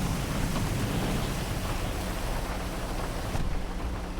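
Steady rain falls outside in a roleplay video game, a dense, even hiss of downpour with a low rumbling undertone, continuous and fairly loud with no voices over it.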